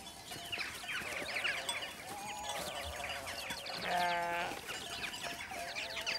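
Ewes bleating in a farm field with cattle egrets riding on them, several wavering bleats at moderate distance, one long clear call standing out, over scattered bird chirps and outdoor ambience.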